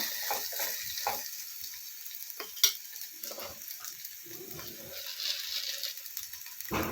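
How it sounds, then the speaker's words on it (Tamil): Tamarind stirred and sautéed in a pan for a chutney: a steady faint sizzle under scraping stirs of a spoon against the pan, with one sharp clink near the middle. "இதில் கொஞ்சமாக புளி அதையும் சேர்த்து வதக்கிக்கோங்க."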